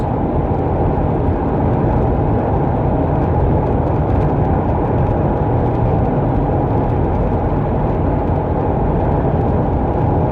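A car driving at 4:45 in the morning, heard from inside as a constant loud road roar and engine drone with no breaks, and no voices.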